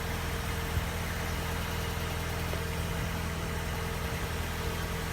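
A Ford Focus ST170 engine idling steadily after starting, a continuous even hum with low rhythmic throb, close and unchanging throughout, no talk.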